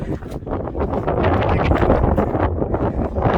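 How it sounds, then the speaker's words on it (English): Steady wind buffets the microphone in a continuous low roar, loud and close, with gusty rises and falls throughout. "It's a little windy today, hope you're not getting blown out."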